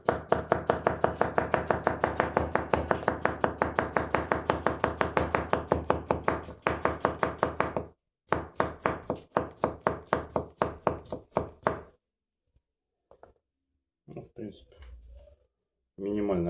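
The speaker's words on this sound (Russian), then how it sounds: "Огурец, мне кажется, любым ножом режется хорошо." Kitchen knife, a CPM S90V petty with an S grind, slicing cucumber on a board in a rapid, even run of close, crisp cutting knocks, then slower separate strokes before it falls quiet, ending with a brief voice.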